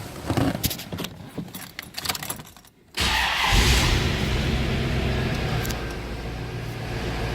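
A 1993 Chevrolet Corvette convertible 40th Anniversary Edition, an automatic, starts after some clicking and rustling. The engine catches abruptly, then settles into a steady, loud idle.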